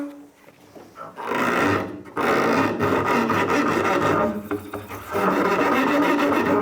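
A bow scrapes roughly across a string in long, harsh, raspy strokes, loud and close, with short pauses between them.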